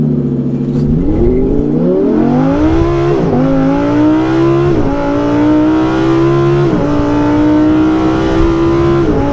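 A car accelerates hard at full throttle in a Hellcat Redeye versus Lamborghini Huracan run. The loud engine note climbs steadily, drops briefly at each gear change, then climbs again.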